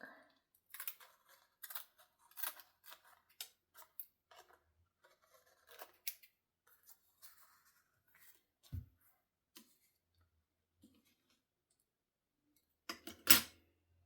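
Scissors trimming paper in a quiet room for crafting an altered index, a series of short, crisp snips spaced irregularly, close and faint, with a louder cluster of cuts near the end.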